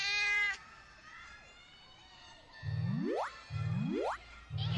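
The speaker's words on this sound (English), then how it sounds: "Nice cat." A cat's meows rendered as stylized, cartoonish calls: a steady tone opens, then three quick meows each sweep sharply upward in pitch, loud and close with short pauses between.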